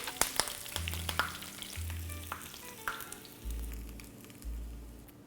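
Capers deep-fry in oil, giving a bubbling crackle with sharp pops near the start and a steady sizzle, broken by low thumps and handling noises nearby.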